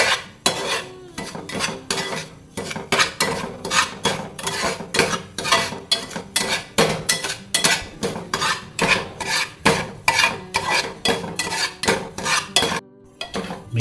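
Rava semolina stirred in oil in a pan for sheera, a spoon scraping the metal in steady repeated strokes, close and fairly loud, with no talking.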